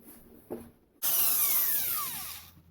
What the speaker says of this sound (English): So I'll drill them out now for a number 6